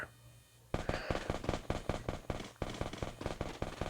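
Rapid bursts of gunfire start after a short lull, loud, close shots cracking in a fast, steady rhythm for several seconds.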